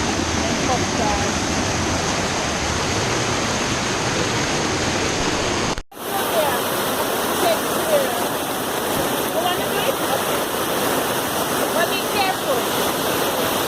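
Reach Falls in Portland, Jamaica pours in a loud, continuous rush of cascading water close by, with a brief break partway through before the steady roar resumes.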